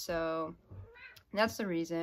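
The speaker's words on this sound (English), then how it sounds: "Sorry if you hear my cat in the background." A house cat gives two clear, close meows, one at the start and one near the end, and a person speaks briefly between them.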